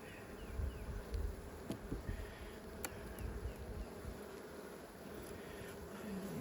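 Honeybees buzz steadily around an open Flow hive during inspection, a soft continuous drone with a few faint clicks and bumps.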